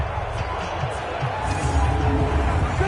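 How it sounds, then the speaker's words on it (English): A stadium crowd in Madden 20 builds a loud, continuous roar of cheering during an NFL game between Dallas and Washington, swelling slightly over a few seconds while a commentator talks over it. "The crowd getting into it as we come up on a big third down"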